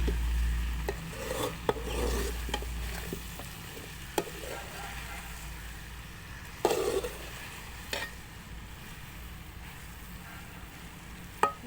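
Okra with chopped and whole chillies gets stirred in a pan, giving several soft raspy scrapes and rubbing strokes over a faint low background, with a few sharp clicks of the utensil against the pan.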